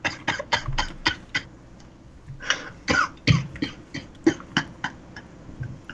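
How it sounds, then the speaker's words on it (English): A series of short, sharp coughs in quick bursts, some clustered and some spaced apart, fairly close, with a quiet room behind them. "Coughing."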